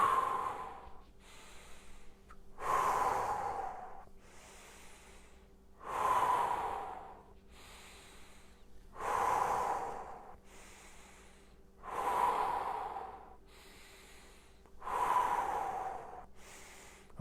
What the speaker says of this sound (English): Remember, same thing with your breath, exhaling as you go to the side.